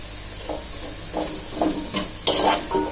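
Vegetables and ground spice powder sauté in a hot pan for sambar rice, with a soft continuous sizzle broken by several rhythmic scraping stirs of a spoon against the pan.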